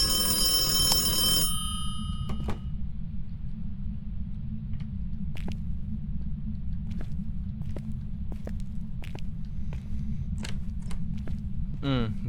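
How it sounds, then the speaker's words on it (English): A telephone rings inside a school in the Phasmophobia ghost-hunting video game, a harmonic electronic ring in a brief burst near the start and again faintly later, over steady low rumble and scattered clicks. "I'm getting phone rings all over this entire school."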